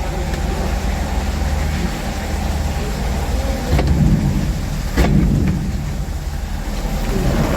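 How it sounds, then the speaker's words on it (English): Steady rain falls outdoors at Standedge, a continuous close hiss with low rumbling, a louder swell around the middle and no voices. "I don't like the rain, Greg."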